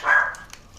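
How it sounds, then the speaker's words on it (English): A single sharp, high-pitched bark from a chihuahua named Tuffy, close and brief, followed by quiet. "Tuffy's barking at Tuffy."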